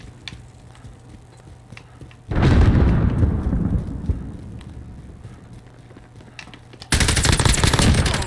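Gunfire from Modern Warfare multiplayer, loud dense bursts of automatic fire starting abruptly, then thinning into a rumbling tail before another sharp loud burst at the end; no talking.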